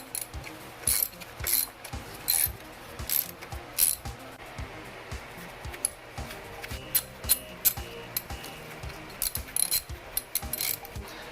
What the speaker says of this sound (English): sort of just ease these into place with this ratchet